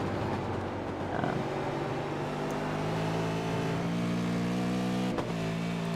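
Race cars lap the tight, twisty Lime Rock circuit in an Acura AOSC Super Series round: a steady, loud engine drone with shifting harmonic pitch runs throughout, a car passing close by.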